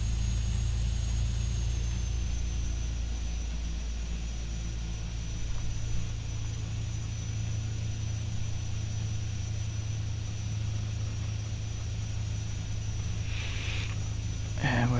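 Carenado B200 King Air turboprop taxiing in X-Plane 11: a continuous, steady engine drone with a high turbine whine and low rumble, near and unchanging, with a brief clatter near the end.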